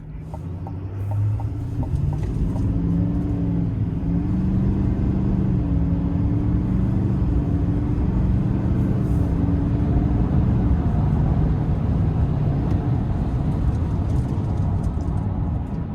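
Heavy-duty 2026 GMC Sierra 2500HD Denali pickup with a Duramax diesel pulling up to speed, a steady low engine drone with rising tones under road rumble, loud and continuous throughout.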